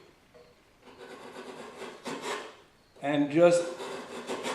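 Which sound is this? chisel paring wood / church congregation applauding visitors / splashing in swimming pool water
chisel paring wood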